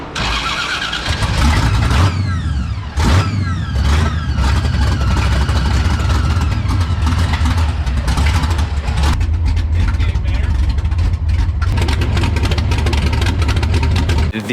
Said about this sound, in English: The 69 Chevelle startup, what a beast, what a motor.